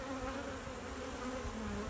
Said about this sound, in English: look at the bees on this side